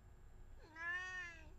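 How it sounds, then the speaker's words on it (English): A single clear cat meow, rising and then falling, close and fairly quiet against a near-silent background. "Okay, Meechy approved. Meow."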